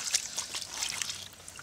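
A small, swift-running stream trickles and burbles steadily outdoors in the wilderness, a soft, fairly quiet and continuous wash of water with no voices.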